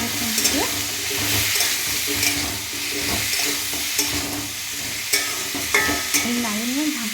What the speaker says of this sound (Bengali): সোয়াবিনটা ভাজতে বসিয়ে দিয়েছি